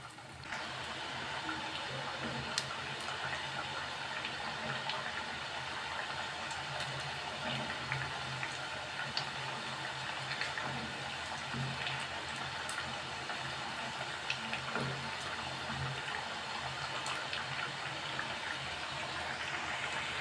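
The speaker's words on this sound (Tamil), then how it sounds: "உள்ளே சேர்த்து நம்ம பொரிச்சு எடுத்துடலாம்" Taro (colocasia) pieces deep-frying in hot oil over medium heat, a steady dense bubbling and crackling sizzle that runs evenly throughout with occasional sharper pops.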